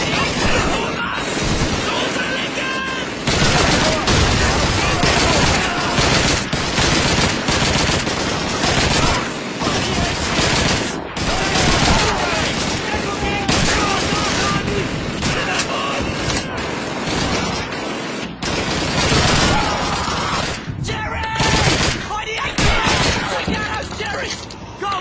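Dense, continuous gunfire in the World War II shooter Call of Duty 2 during a fight against a gun crew, with rapid machine-gun bursts, rifle shots and occasional blasts loud throughout, while a narrator speaks over the battle.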